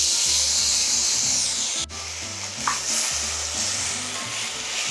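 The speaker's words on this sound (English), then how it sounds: "we're adding the rice into our pan, and we're just gonna give it a little fry" Rice fries in a pan for Mexican rice, a loud close sizzle with rhythmic scraping and stirring strokes throughout, briefly dipping midway; no one speaks.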